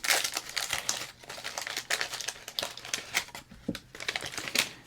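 Crinkling plastic wrapper of a 1991 Donruss baseball card pack, handled up close in a steady run of sharp crackles and rustles with brief pauses, no talking.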